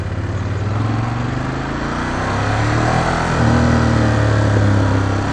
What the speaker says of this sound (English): This is stock exhaust.